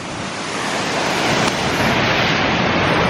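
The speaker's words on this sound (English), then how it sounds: "It's always cool to go underneath the waterfall, feel the powerful, you know, the power of the nature itself." Waterfall pouring down heavily, heard from directly underneath it in Romania, a loud unbroken roar of rushing water that fills the whole sound, with no voices.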